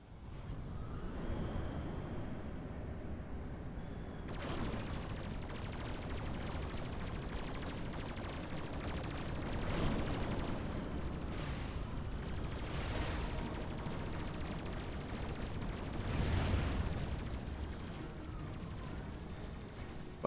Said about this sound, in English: Oh, I think I'm getting wrecked by artillery.